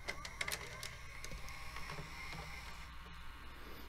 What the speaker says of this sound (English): Just the sound of all the little mechanical parts going into place and the spinning up the video head.